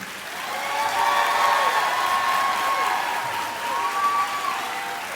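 Audience applause fills a high school graduation ceremony as a row of students is recognized, a steady, dense wash of clapping with some crowd noise that holds evenly for several seconds.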